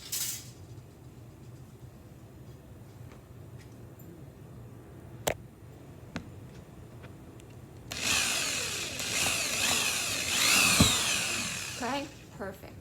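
A power drill bores a hole into a wall, a loud broadband whir running for several seconds near the end after a quiet stretch with a few clicks, with faint talk nearby.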